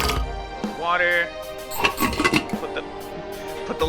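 A metal lid is set onto a cooking pot in the video game Venba, giving a few bright clinks and clatters amid game music and kitchen sounds, with a voice talking over it.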